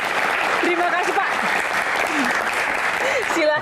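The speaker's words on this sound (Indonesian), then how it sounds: "Tepuk tangan luar biasa." Audience applause at a public Q&A forum on the Constitutional Court, a dense steady wash of many hands clapping throughout, with scattered voices and whistle-like calls riding over it.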